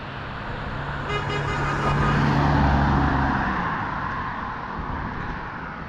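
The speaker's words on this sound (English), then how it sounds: "let's just wait for these cars to pass" Cars pass on a road, the whoosh swelling to a peak as a vehicle goes by, with a short horn toot in the middle before the noise fades away.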